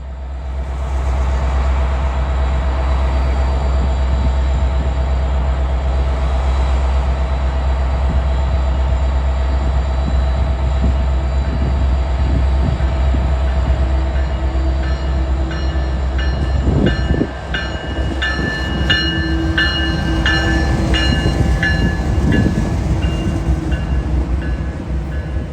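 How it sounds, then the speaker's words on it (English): A Southern Railway high hood diesel locomotive idles with a deep, throbbing engine drone, then wheels begin clanking and squealing as a train rolls past loudly and close. "the Southern Railway, at least here on this high hood locomotive, still rules the rails"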